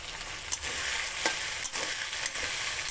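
Green chilies frying for chilli chicken sizzle steadily in a pan while a utensil stirs them, with a few soft scraping strokes over the continuous hiss.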